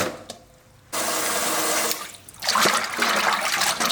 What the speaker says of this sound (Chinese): 毛肚我们清洗下就是了哈